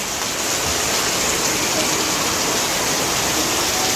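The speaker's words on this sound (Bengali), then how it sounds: "অনেক জোরে বৃষ্টি হচ্ছে" Dense, steady roar of heavy rain pouring down without a break, loud and close, with water splashing off a roof onto hard surfaces.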